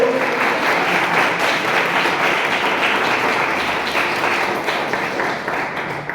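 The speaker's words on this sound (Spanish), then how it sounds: "Dale un aplauso fuerte al Señor" A large crowd at a Bible study service applauds loudly and steadily, the dense clapping filling the room without pause.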